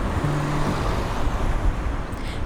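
Steady town traffic rumbles continuously around a 12th-century castle ruin set in the middle of a town, a dense wash of passing cars and engines with no gaps and no voices.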